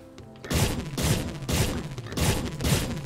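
Repeated gunfire from a video game, Eternal Edge +, sounding as five evenly spaced, loud bursts roughly every half second, each with a booming low thump and a bright crack, with no talking over them.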